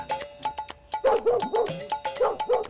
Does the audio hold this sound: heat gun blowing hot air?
no